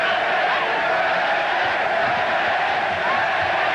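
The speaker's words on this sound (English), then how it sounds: "The obviously partisan crowd in Melbourne cheering Jeff Fenech on." A partisan boxing crowd in a Melbourne arena roars steadily for Jeff Fenech during an IBF lightweight title fight against Philip Holiday, a dense, continuous wash of cheering and shouts.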